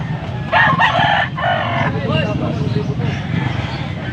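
A bulik gamefowl rooster in Angeles City, Pampanga crows loudly and close by in one long, strained call, with people talking over and around it.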